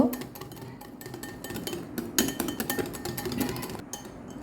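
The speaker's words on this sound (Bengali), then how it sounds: "তেলটাকে ভালোভাবে মিশিয়ে নিব।" Pancake batter is mixed with soybean oil in a bowl, giving quick irregular clinks and scrapes of a utensil against the bowl, close and fairly quiet.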